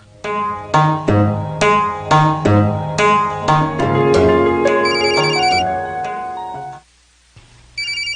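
A cellphone ringtone rings loudly and close, a bright repeating melodic tone pattern that plays for several seconds, cuts off briefly, then starts again.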